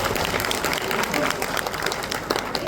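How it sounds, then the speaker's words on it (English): Audience applause at an inaugural ceremony for a science and math teachers' training, a dense, steady clatter of many hands clapping together with no breaks. "can we raise applause for it?"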